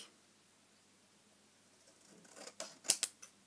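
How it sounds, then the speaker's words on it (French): Scissors snip paper at an angle during a scrapbooking paper craft, a few quick crisp cuts close by near the end after a quiet start. "je prends mon ciseau et je vais venir en fait juste couper ici en biais"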